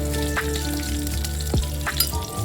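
Green chili and ginger fry in a hot pan with a loud, continuous sizzle, punctuated by a few sharp stirring scrapes close by.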